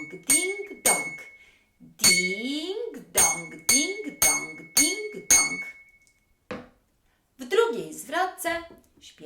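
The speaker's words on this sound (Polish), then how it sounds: "Kos będzie śpiewał ding-dong, a my będziemy mu pomagać, grając na szklaneczkach." Small drinking glasses are struck as a musical instrument in a children's home rhythm lesson, giving bright, ringing clinks in a steady beat while a voice sings along.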